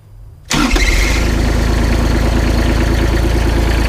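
A Kubota engine cranks and catches after half a second of quiet, then settles into a loud, steady idle with a rough low rumble close by, no talking.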